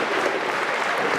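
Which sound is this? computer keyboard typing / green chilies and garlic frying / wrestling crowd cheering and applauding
wrestling crowd cheering and applauding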